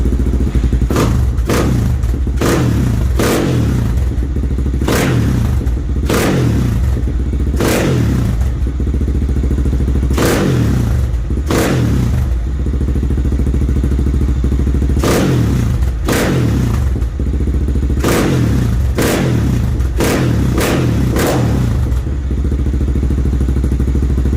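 A giveaway quad ATV engine that backfires slightly runs loud and close, pulsing through a steady series of heavy thumping revs and pops over a continuous low drone.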